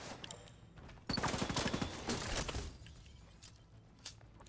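Turrets in a video game open fire in a fast, rattling burst of rapid shots, loud for about a second and then trailing into scattered lighter pops and clicks.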